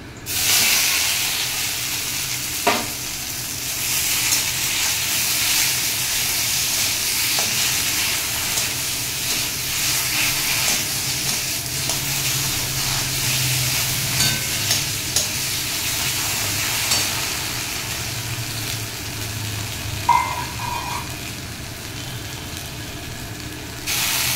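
Pumpkin leaves fry with garlic in a pan, giving a steady loud sizzle and hiss with occasional stirring scrapes and clinks, no talking.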